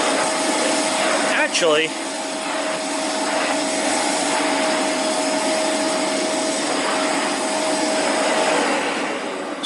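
A Vax Air Revolve Pet canister vacuum with its pet hair upholstery tool attached runs with a loud, steady roaring whine and a clear tonal hum, close by, while a voice briefly speaks over it.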